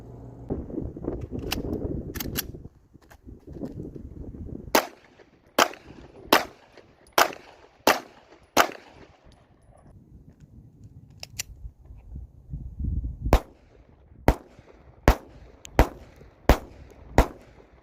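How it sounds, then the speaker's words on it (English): Handgun shots at an outdoor shooting range, a beginner-friendly practical pistol: about fifteen sharp loud reports, first in an irregular group and then in two steady strings of evenly spaced shots, with faint background noise between them. "it's a pretty nice gun, very accurate. Go to the range, let's try it out."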